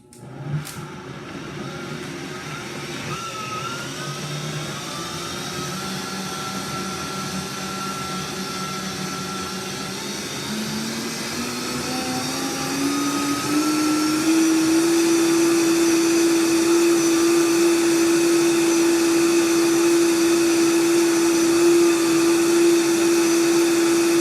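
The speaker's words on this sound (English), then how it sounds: "smashed up in the blender" A blender runs on its smoothie speed setting, chopping cannabis leaves for juice, a steady motor whine that climbs in pitch and settles into a loud, even drone, with no talking.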